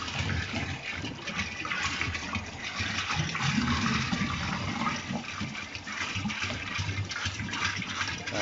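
Liquid gushes and splashes steadily while honeybee syrup is mixed into 2-gallon drums, a continuous close pour with no talk.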